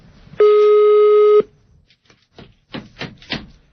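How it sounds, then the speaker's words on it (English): Telephone ring tone from a call placed on air during a radio talk show, one long steady ring lasting about a second, loud and clear, followed by faint talk and scattered clicks. "Why do we need the rings on the air?"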